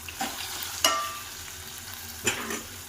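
Tomatoes frying in a pan until soft, a steady low sizzle broken by a few sharp stirring scrapes against the pan, with no voices.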